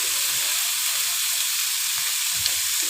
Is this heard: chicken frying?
yes